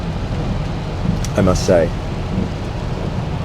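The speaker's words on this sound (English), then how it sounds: "Absolutely lashing it down still, but driving in the rain is always fun" Heavy rain lashes down around a Volvo on the move, a steady broadband wash with a low road rumble beneath, while a voice speaks briefly in the middle.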